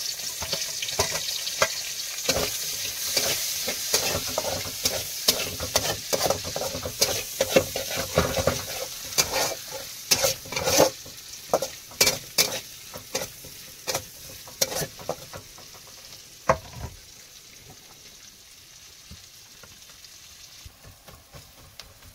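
Fish and crab frying in a pan, a steady close sizzle broken by repeated sharp scraping and clattering stirs that thin out toward the end, with no talking.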